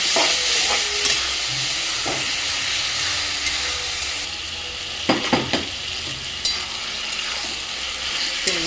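Prawns and potatoes hiss and sizzle loudly while being stir-fried in a pan, with a constant steamy crackle and several sharp scraping clacks of a spatula stirring near the end.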